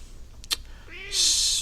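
A chatty 14-year-old cat gives a single rising-and-falling meow at close range in a quiet indoor room, preceded by a couple of short clicks and followed by a burst of hiss.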